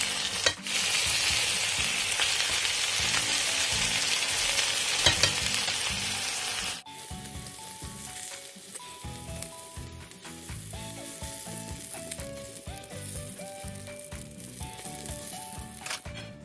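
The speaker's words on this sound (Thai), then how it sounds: "มาต่อที่ย่างหมูจ้าหมูย่างจะใช้ย่างกระทะ" Pork grills in a pan with a loud, dense sizzle that then drops to a quieter crackle with light scraping and stirring, continuous throughout with no talking.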